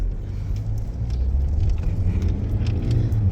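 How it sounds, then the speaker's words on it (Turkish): A car drives near a village entrance in Central Anatolia, its low engine rumble steady and fairly loud throughout, growing slightly stronger toward the end as it draws closer, with no talk over it. "Yenge araba geliyor dikkat et."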